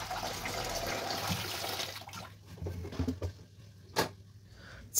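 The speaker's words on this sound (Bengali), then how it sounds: "দিয়ে নতুন করে জল ভরছি।" Water runs from a tap into a pot for Maggi noodles, a steady rushing stream for about two seconds that then cuts off. A few faint clinks and a sharp knock follow in a quiet kitchen.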